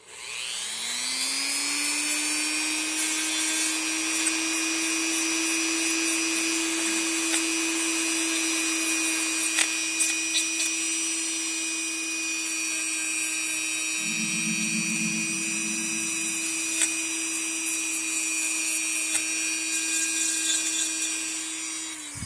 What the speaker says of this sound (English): I'm going to use the sanding bit on this too